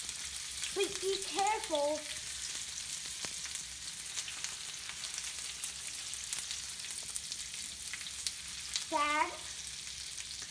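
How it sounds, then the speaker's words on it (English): Onions frying for fried rice give a steady soft sizzle throughout, with occasional stirring clatter and a voice or chatter rising at the start and near the end. "Then you put in your onions. And then you stir it."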